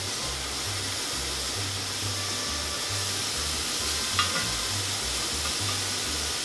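Shrimp sizzle steadily on a grill as they are turned over, a continuous close hiss with a single brief metallic tick partway through.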